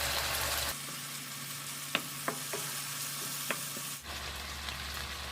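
Butter sizzles in a pan with honey-glazed chicken, a loud close crackle and hiss that drops back for a few seconds, broken by small clicks and taps of stirring, then surges up again.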